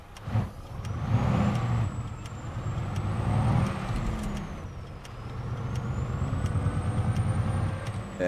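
A heavy truck with a manual gearbox in American Truck Simulator, its low engine drone rising and falling through gear changes, a sharp air-brake hiss and a steady high tone running across.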